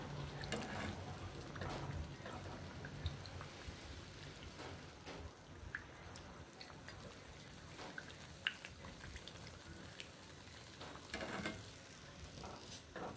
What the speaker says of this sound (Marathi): हे पहा अशा कलर वरती आपल्याला सजुरी तळून घ्यायची.